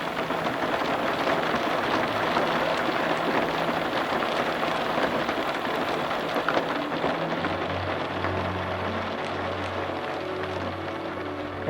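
Brief afternoon rain at a campground in Maine, a steady, even patter on surfaces that holds close and constant throughout with no voices.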